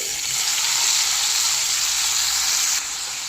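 Tomato pieces frying in hot oil in a kadai give a loud, steady sizzle that holds evenly throughout and drops slightly near the end, with no voices.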